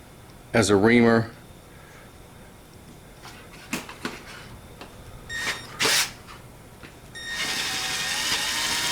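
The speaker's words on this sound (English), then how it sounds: "use the drill as a reamer" A battery drill used as a reamer to clean out holes on a Chevy 130D alternator whirs up in a short burst, followed by scattered clicks and taps, then a longer steady grinding run near the end.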